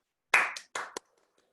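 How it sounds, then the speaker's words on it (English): Scattered applause from members at a Nasty Women NM meeting: two short bursts of close hand claps, each fading fast, with a final single clap before silence. "Let's do a round of applause."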